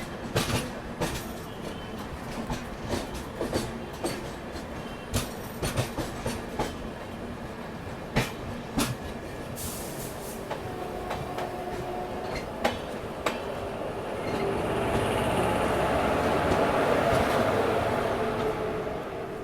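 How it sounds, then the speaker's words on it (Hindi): At Warangal station, the Gaya–Chennai Superfast Express rolls past a departing train in the opposite direction; rapid wheel clatter over rail joints rings out close by, then gives way to a rising, sustained rush of passing coaches. "अपनी ट्रेन वरंगल स्टेशन से डिपार्चर ले रही थी और सामने से आ रही है गया चेन्नई सुपरफास्ट एक्सप्रेस"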